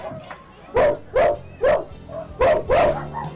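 A child in a human barking contest imitates a dog with a run of about six loud, close woofs in an uneven rhythm, interspersed with softer yips and whimpering sounds.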